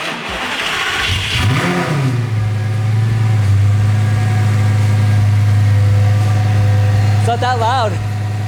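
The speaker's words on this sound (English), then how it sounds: "when you're accelerating, that same drone from idle" A Lamborghini Gallardo with a newly fitted exhaust revs up from idle into a loud, rising drone, then settles into a steady, close engine hum with a brief second rev near the end.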